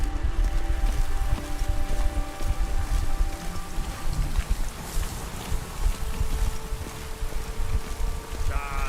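Steady rain hisses through a video game scene, a continuous wash of falling water with faint tonal music underneath and occasional bursts of activity.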